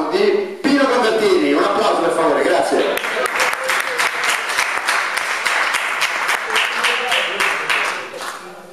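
Sustained applause from an assembly audience in Rome welcomes the next speaker, following a brief spoken introduction, with steady clapping that fades near the end.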